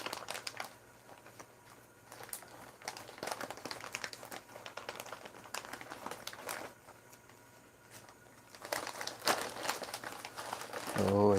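Crinkling plastic wrapping as a Marvel Legends action figure package is opened, intermittent rustles and crackles up close, with brief talking in between.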